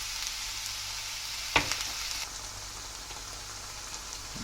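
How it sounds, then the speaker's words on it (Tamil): Onions sautéing in a pan with salt, green chilli and garlic for prawn thokku, giving a soft, steady sizzle throughout with one sharp stirring clack near the middle; no talking. "இப்போ நமக்கு வெங்காயம் நல்லா வதங்கிட்டுருக்கு."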